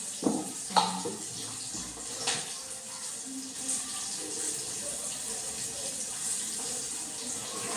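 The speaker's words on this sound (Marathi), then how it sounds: "मी त्यात बाटलीने पाणी टाकलेलं आहे" Water pours from a small bottle during cooking at home, a few splashy gurgles up front followed by a softer, steady trickle of liquid, close by and without talk.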